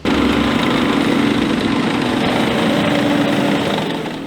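Tank engine running in a workshop setting, a loud, steady mechanical drone with a low rumble and humming overtones, close to the microphone, holding constant before tapering off at the end.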